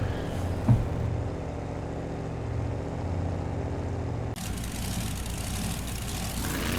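Monster truck engine from a BeamNG Drive Monster Jam-style racing game, a steady low idling rumble held throughout, with a short bump near the start and a brief drop before the tone rises slightly for the rest.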